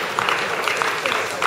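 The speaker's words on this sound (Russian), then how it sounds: "Аплодисменты танцорам." Applause rings out for young ballroom dancers in the standard program at the Kharkiv Mayor's Cup competition, a dense, steady clatter of many clapping hands filling the hall.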